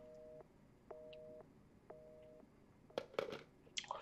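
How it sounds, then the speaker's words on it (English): Telephone busy signal from a picked-up phone in the Resident Evil 7 video game: three evenly spaced two-tone beeps, each about half a second long, followed by clattering handling noises. "All right, so I picked up the phone."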